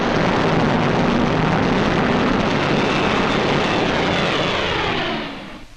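A propeller airplane drones in flight in a 1943 film: a loud, steady, rough engine roar that holds unbroken for several seconds before fading at the end.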